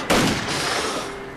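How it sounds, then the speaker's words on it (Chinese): A sniper's rifle shot cracks out in a wartime battle scene, one sharp, loud report followed by a sustained rumbling tail of gunfire that slowly fades. "狙击手，把那两个杂种给我打掉！"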